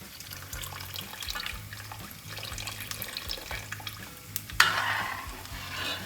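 First extract of coconut milk poured into banana payasam in a pot, a steady liquid splash with soft stirring and utensil clinks, a brighter gush near the end, no voices.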